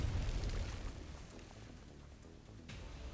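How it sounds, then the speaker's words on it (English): A deep explosion in the video game Arknights rolls out as a low, muffled boom that slowly fades into a dull rumble. "What's an explosion downstairs?"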